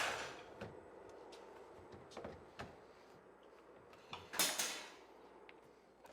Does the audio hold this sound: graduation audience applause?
no